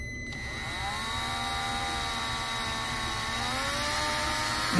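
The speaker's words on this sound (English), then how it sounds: "Man, that is a dull drill bit." Power drill with a dull quarter-inch bit boring into a hobby RC differential part, a steady high motor whine with a pitch that sags and recovers as the bit binds, continuous and close.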